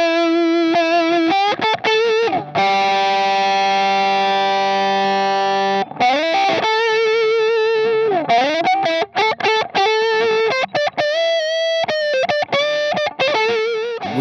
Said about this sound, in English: we're going to use an Octavia to emulate that